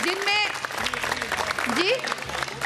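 A studio audience claps for the Sehri team during a Ramadan iftar television broadcast, a steady, dense applause running throughout beneath a person speaking.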